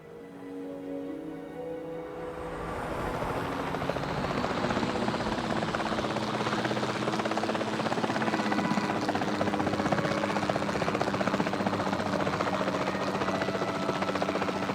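Helicopter flying in the video game Jurassic World Evolution 2, a steady rotor and turbine drone that swells in after a quieter start and holds loud and continuous, with no speech.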